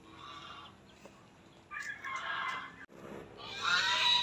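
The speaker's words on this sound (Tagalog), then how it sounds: "Pakakainin naman po ang mga gansi namin." Pet geese in a backyard honk and call at close range, several rising bursts separated by brief quiet gaps.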